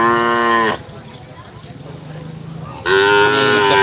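Small cattle at a cattle-racing venue in Pamekasan moo twice, loud and close, with a long quieter stretch of outdoor background between the two calls.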